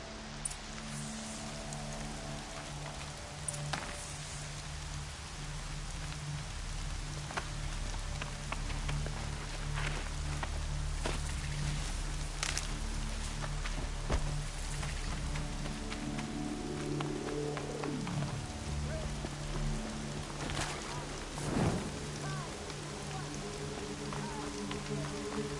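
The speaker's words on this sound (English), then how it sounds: "Rain's not so bad." Steady rain falls on surfaces in the video game Horizon Zero Dawn, a dense, continuous patter of drops with a few brief tonal game sounds and tones sliding past, no one talking.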